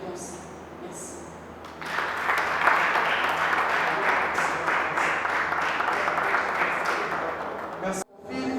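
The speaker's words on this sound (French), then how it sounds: "Vraiment applaudissement très fort." Crowd applause breaks out at a book prize ceremony at a youth book and comic fair in Yaoundé, a dense, steady wash of many hands clapping that swells after a quieter start and cuts off near the end.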